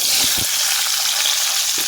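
Pieces of pointed gourd sizzle steadily in hot oil in a kadai, a loud continuous frying hiss with a few soft stirring knocks, no voices.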